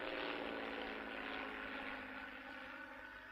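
A propeller plane drones loudly and steadily, with a broad engine roar filling the whole moment and easing slightly toward the end.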